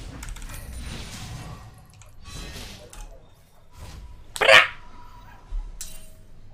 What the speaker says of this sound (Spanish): llevo 5 minutos escuchando al perro ladrar